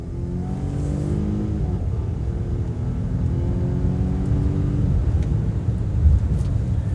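A 2020 Volvo XC60 T8 AWD SUV accelerates, with a smooth, low engine drone rising in pitch through several gear changes, steady and close, with no talking.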